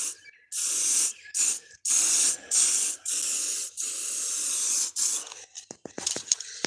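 Short bursts of spray paint from an aerosol can hitting a small test area outdoors, about seven loud hissing blasts separated by brief pauses, followed by a few clicks and rattles of the can.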